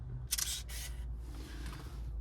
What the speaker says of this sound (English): Lovely quiet shutter, which is nice.